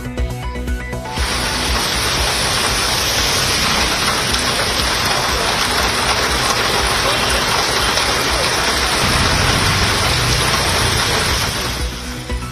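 Heavy rain pours down steadily and loudly in the Karur, Tiruppur and Erode districts of Tamil Nadu, a dense, continuous roar of drops hitting surfaces with no break in intensity.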